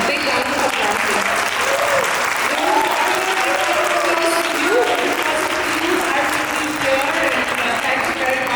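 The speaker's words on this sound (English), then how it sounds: "Can we have a big round of applause, please?" A big round of applause from a seated audience in a room at a FLO Indore event: thick, sustained clapping at steady loudness throughout, with a few voices audible beneath it.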